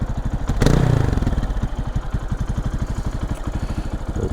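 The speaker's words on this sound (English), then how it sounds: "about the sound of their KPX idling" A 2024 Lifan KPX 250 dual-sport motorcycle idles close by with a fast, even, slightly uneven-sounding thump, after a brief blip of the throttle near the start.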